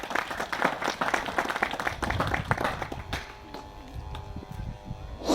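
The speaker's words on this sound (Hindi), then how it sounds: "मैं आप सभी का जोरदार ताली से स्वागत करना चाहता हूं।" An audience at a public meeting gives a speaker a welcoming round of applause, with dense, lively clapping for about three seconds that then thins out and fades.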